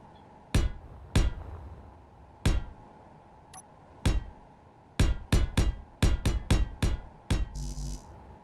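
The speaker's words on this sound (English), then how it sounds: "I'm going to weld these blocks too." Blocks are welded in Space Engineers, heard as sharp, close, percussive clanks in an irregular series, with sparse hits at first and then a quicker cluster of hits near the end.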